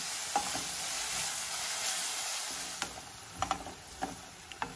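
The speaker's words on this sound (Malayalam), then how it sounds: "നന്നായിട്ട് വഴിച്ചു കൊടുക്കാം." Onions sautéing in a pan with ginger garlic paste, stirred with a spoon: a steady soft sizzle runs throughout, with a few sharp scraping clinks of the utensil against the pan toward the end.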